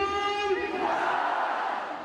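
A large crowd at the Wagah border ceremony lets out a sustained roaring cheer, with a voice rising out of it at first before the sound fades slightly.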